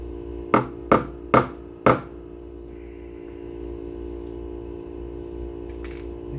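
Cutters snip new fret wire in four sharp, close clicks spaced about half a second apart, followed by quieter handling noise and a faint low hum, no talking.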